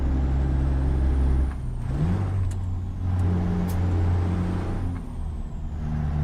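A truck with a 12.7 litre engine runs close by, a loud, steady low drone that dips briefly, then climbs in pitch and settles again, with short hissing bursts like air brakes.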